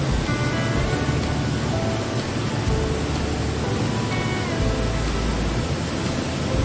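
Sambuyeon waterfall in Cheorwon, where the water tumbles over carved granite, makes a loud, continuous roar of rushing, splashing water. The dense noise stays steady throughout, with no voices.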